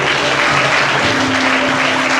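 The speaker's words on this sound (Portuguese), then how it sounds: "Você pode aplaudir ao Senhor." Steady applause fills a church service, a dense close wash of clapping from the congregation with no talk over it.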